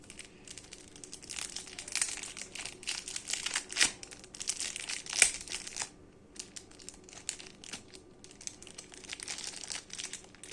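A wrapper on a Brawl Stars or football card pack is crinkled and torn open up close, with irregular bursts of crumpling and tearing and short pauses between them.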